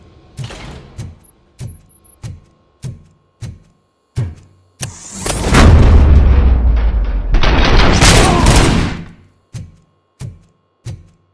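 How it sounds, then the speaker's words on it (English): Rapid, evenly spaced loud gunshots crack out in the video game RoboCop: Rogue City, broken up by a long roaring blast in the middle. "Am I hearing gunshots?"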